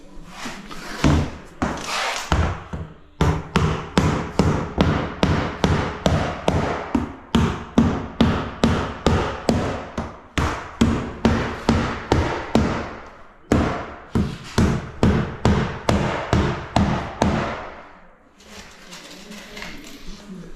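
Hammer blows drive nails through cement sheet laid over wooden flooring, dozens of sharp, close strikes in rapid rhythmic runs separated by short pauses.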